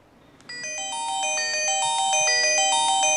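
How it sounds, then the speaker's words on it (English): A phone rings after the find-device feature on a DM360 smartwatch is triggered: a melodic electronic ringtone starts abruptly and repeats its bright chiming pattern, growing slightly louder and playing alone. "you'll make noise, you'll be able to find your cell phone"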